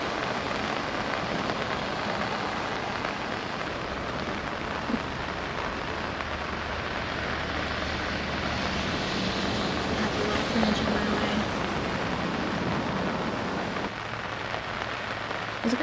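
Steady rain hisses down across an outdoor disc golf course during a tournament round, a constant wash of drops on surfaces, with players' voices talking faintly underneath.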